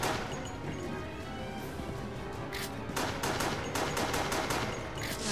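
Rapid bursts of gunfire in Resident Evil: The Darkside Chronicles, a dense, loud clatter of shots and impacts running steadily throughout, heaviest toward the end.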